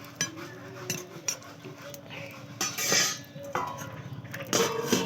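A lid clinks and settles onto a metal pot where jiol and lata fish boil with turmeric and salt, giving a few sharp clatters over a low kitchen hiss.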